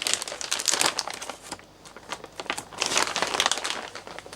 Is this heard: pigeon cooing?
no